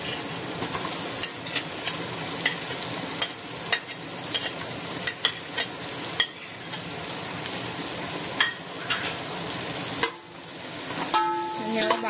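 Onions fry in a pan for Goan-style prawn chowmein while being stirred, a continuous crackling sizzle broken by frequent sharp clicks and scrapes of the utensil against the pan, moderately loud and close.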